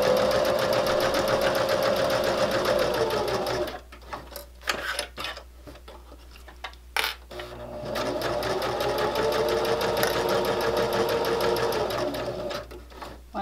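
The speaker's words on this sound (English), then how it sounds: "I'm going to leave my needle down, lift my presser foot and turn, and just keep going." A sewing machine stitches a fabric mouse wrist rest, running loud and steady, then stopping for a few seconds of clicks and handling while the needle stays down and the fabric is turned, then running again.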